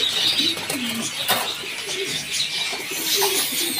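Pigeons in a pigeon loft coo in low, repeated throaty phrases at close range, with occasional light chirps and faint rustling between calls.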